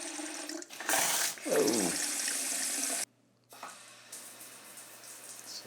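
A Tushy Classic toilet seat bidet sprays water over its nozzle to self-clean, a steady hissing rush that starts abruptly, cuts off after a couple of seconds, then resumes more softly amid bathroom echoes, with a brief voice.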